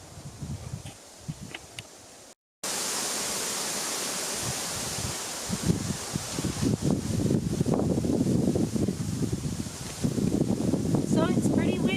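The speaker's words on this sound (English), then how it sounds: "So it's pretty windy, so I hope you can hear me." Wind blows steadily through a mixed forest, a continuous broadband rush with rustling gusts that swell and ease, fairly loud and close to the microphone, with a brief dropout early on.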